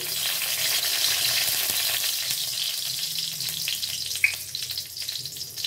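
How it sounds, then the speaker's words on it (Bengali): Two dried red chillies fry in hot mustard oil in a wok, giving a loud, continuous sizzle with faint scraping now and then and one brief sharp crackle near the end. "কড়াইয়ে সর্ষের তেল দিয়েছি। হ্যাঁ, আর এই যে আমি দুটো শুকনো লঙ্কা দিলাম"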